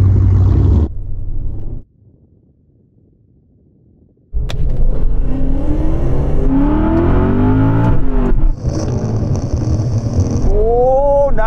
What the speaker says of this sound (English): we're going to roll in first gear, then the starter will start us, and we'll see which one gets to the quarter mile first